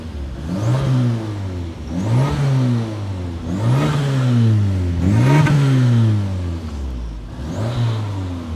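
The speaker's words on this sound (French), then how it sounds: "On entend un petit peu le bruit du turbo." A Citroën XM engine with turbo revs repeatedly in close-up, rising and falling in about six swells with a faint turbo whistle over the engine note.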